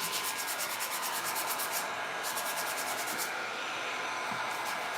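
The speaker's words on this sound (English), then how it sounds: "You've all seen sanding before." Steady hand sanding with sandpaper, a continuous rhythmic scratchy rubbing close by while thrift-store lamps and old art are refinished, with a brief pause partway through.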